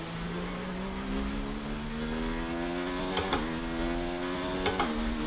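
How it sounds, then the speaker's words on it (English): Formula 1 car engine in F1 2019 on a damp Shanghai track, droning steadily as the driver downshifts, pitch stepping and sliding with changing revs, with two quick gearshift blips. "I downshifted. Changing RPMs."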